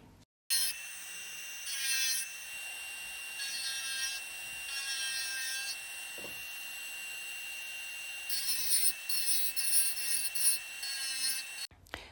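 An electric manicure nail drill runs at low speed against a cracked nail, holding a steady high-pitched whine with slight changes in pitch as it grinds in place, close and continuous for about eleven seconds before it cuts off.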